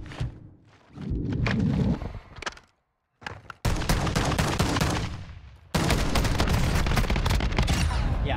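Video game gunfire with loud, close bursts of rapid shots broken by short gaps and one brief silence, then sustained dense firing to the end.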